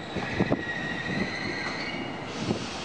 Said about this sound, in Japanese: 回送電車発車です。